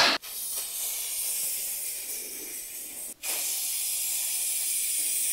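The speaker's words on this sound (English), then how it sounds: "I'm just gonna spray this down, lay the roof liner on the floor" Steady aerosol spray glue hissing close up as it coats the fabric of a BMW E36 roof liner, two short pauses breaking the continuous spray.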